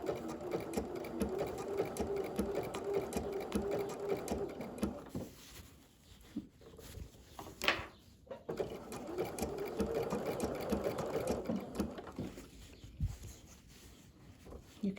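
Sewing machine running a blanket stitch along the edge of a camper, a close, fast steady whir with short pauses and restarts while someone talks over it.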